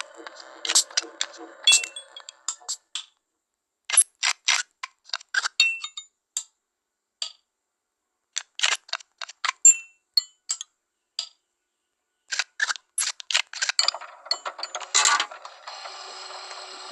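A screwdriver removing four screws in the puzzle game The Past Within: clusters of crisp metallic clicks, clinks and ratcheting turns come in short bursts separated by brief pauses, close and clear, with no talking.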